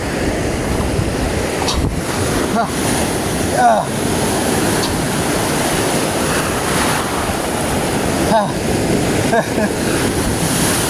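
Surf after a storm at a fishing spot, with waves washing steadily against the shore and strong wind noise on the microphone throughout, brief splashes and knocks breaking through the rough, continuous roar.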